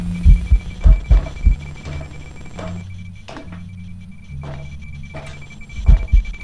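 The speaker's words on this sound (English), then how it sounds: "all tiers of the headgear will now make a static noise when a ghost is in range and hunting" Headgear static hiss in the Phasmophobia video game while a ghost hunts nearby, a steady crackling wash over a low droning hum, with rhythmic thumping pulses like footsteps or a heartbeat coming and going.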